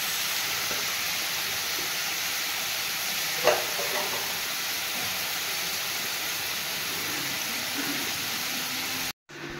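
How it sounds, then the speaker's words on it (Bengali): Bottle gourd peel and banana stem frying with salt in a pan, a steady broad sizzle with a single scrape of stirring partway through, continuous and close, then cutting off abruptly near the end. "এবারে ভালো করে এবার নেড়ে লবণ দিয়ে নাড়াচাড়া করে ভেজে দেবো"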